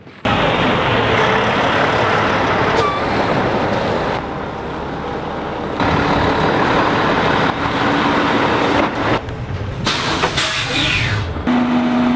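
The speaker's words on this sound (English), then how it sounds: "gravel truck shows up" A gravel truck rolls up to a dirt road-building site, its loud engine rumbling and droning up close throughout with brief dips and a squeal of brakes near the end.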